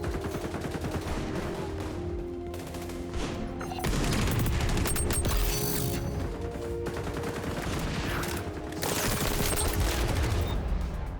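Video game firefight with repeated gunfire bursts and a thrown frag grenade, dense and loud throughout, with booming blasts layered over rapid shots.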